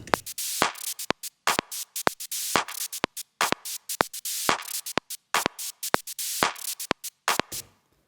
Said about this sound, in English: So together the drums sound like this.